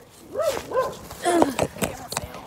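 A dog barks and yips in a few short, close bursts, with a whining, whimpering edge and some voices nearby.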